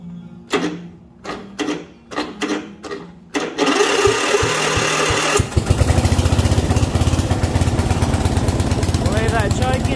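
Yard Machine MTD 125/38" riding mower engine cranks in several short bursts, fires and catches, then settles into a steady, loud, close-up running chatter with its choke on.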